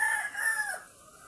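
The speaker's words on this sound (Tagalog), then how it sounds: "May manok sa ilalim." A rooster crows once, a drawn-out call that fades near the end, with light background noise and no talk.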